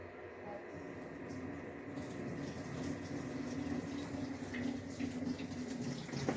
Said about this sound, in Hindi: देखिए ये मशीन में पानी भरना चालू हो गया है।